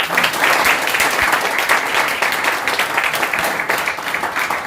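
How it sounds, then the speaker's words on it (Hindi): Loud, sustained applause fills a training meeting hall as a person is called onto the stage, a thick continuous roar of many hands clapping close by, holding steady throughout. "आप आ जाओ स्टेज पे जोरदार ताली के साथ"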